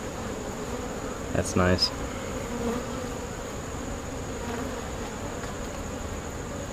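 Honeybees buzzing around an open hive during a frame inspection, a steady, soft droning hum with individual bees zipping close by, and a person speaking briefly over it.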